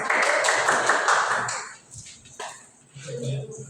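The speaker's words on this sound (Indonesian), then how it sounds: "Oke, beri tepuk tangan." A classroom full of students claps in a brief dense burst for about a second and a half, then it fades out, leaving scattered taps and a few soft voices.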